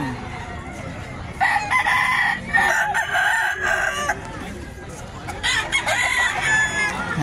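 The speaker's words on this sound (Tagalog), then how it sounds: "Ang dami yan, manok." Several roosters crow loudly in repeated bursts at a busy pet market, with clucking fowl and background chatter filling the gaps between calls.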